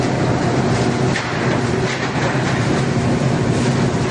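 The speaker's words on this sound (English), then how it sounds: "High-speed printing machine for corrugated carton box." High-speed corrugated carton flexo printer slotter die cutter with vacuum transfer and stacker running at up to 430 pieces per minute, a loud continuous mechanical roar with steady rhythmic clatter throughout.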